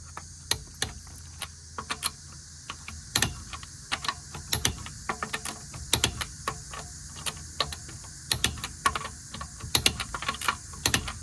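A torque wrench clicks repeatedly as lug nuts on a wheel are re-checked for tightness. The sharp, close clicks come in irregular bursts over a quiet background.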